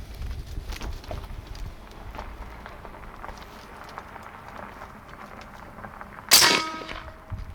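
A .50 caliber AEA Challenger air rifle fires once outdoors, a sharp loud crack near the end that stands out above quiet background rustling and faint movement.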